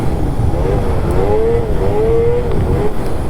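A Catalyst 858 snowmobile engine revs hard with clutch work and track spin, a loud, continuous rising and falling whine that swells and eases in pitch over a few seconds, with no talking.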